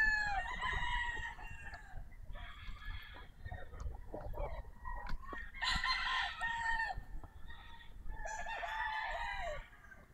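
A sweater gamefowl broodcock rooster crows loudly and close by, several long drawn-out crows in a row, with a few clucks between them and faint farmyard background.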